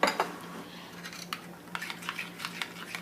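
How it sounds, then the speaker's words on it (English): A utensil clinks and scrapes against a bowl while chicken marinade with soy sauce and red wine vinegar is mixed, giving a series of light, close taps in an irregular rhythm over quiet hum. "Mix everything well"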